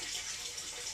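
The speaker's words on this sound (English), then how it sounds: "So now I'm just rinsing with distilled." Distilled water running over glass during mirror silvering, a brief steady splashing rinse stream, close and continuous.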